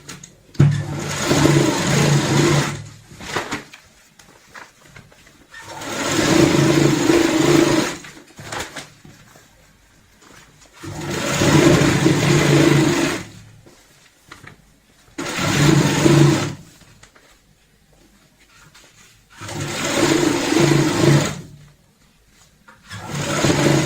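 An electric sewing machine stitches the sides of a velvet travel bag in repeated loud whirring bursts of a few seconds each, separated by short pauses as the fabric is repositioned.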